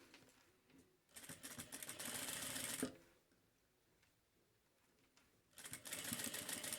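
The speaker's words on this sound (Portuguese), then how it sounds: "Encontro bem as costuras e costuro com um pezinho de máquina." A sewing machine fitted with a presser foot stitches along matched seams of a fabric trim. It runs in two close, fast bursts of rapid stitching, separated by a few seconds of quiet.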